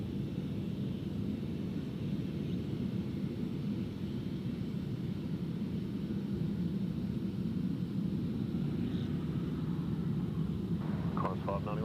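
A departing airliner at Gold Coast Airport produces a steady, distant jet roar and broad rumble that holds for the whole stretch, with faint background murmur.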